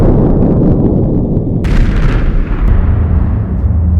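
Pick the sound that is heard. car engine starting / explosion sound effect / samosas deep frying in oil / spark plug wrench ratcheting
explosion sound effect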